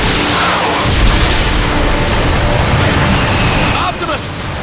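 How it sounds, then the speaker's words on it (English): In the Transformers: Fall of Cybertron video game, a Decepticon warp cannon blasts in heavy, rumbling booms over several seconds, mixed with character dialogue. "The Decepticon warp cannon!"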